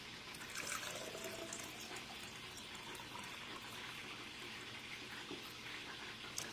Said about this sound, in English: So I'm going to just stir it for 10 seconds.